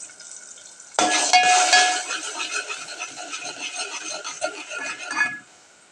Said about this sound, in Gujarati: મસાલો બરોબર શેકાવા દેવાનો.